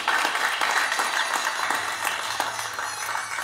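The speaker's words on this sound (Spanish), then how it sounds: "Un aplauso, por favor." Audience applause at a prize-giving ceremony for a diocesan seminary raffle, a dense, steady wash of clapping that stays loud and even from start to finish.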